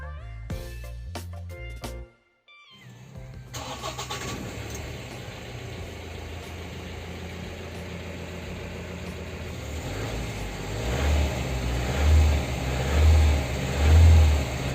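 After a brief pause, a Mahindra Bolero Pickup 1.7-litre turbo diesel engine starts and settles into a steady idle, heard from inside the cabin, with a few low revs toward the end.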